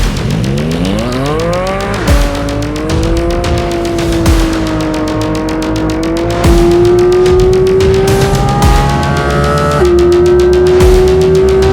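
Porsche Cayman GT4 RS with its GT3-derived engine driving across the Bonneville Salt Flats, engine note climbing steadily through long pulls with brief dips at gear changes, loud and close throughout with no talking.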